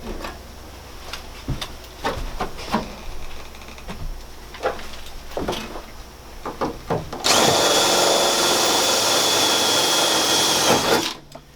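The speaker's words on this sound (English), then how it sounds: "we've got two more rivets up here, and we may as well set those before we switch out our tool" A power tool sets rivets inside a Sprinter 170 van. Scattered sharp clicks and taps are followed by a loud, continuous tool whir lasting about four seconds, close by, with no speech.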